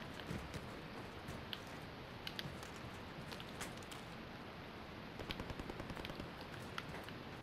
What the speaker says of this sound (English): Did you hear that shooting?